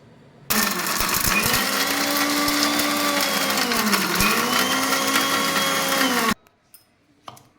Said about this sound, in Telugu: ఫస్ట్ వీటిని గ్రైండ్ చేసుకుందాము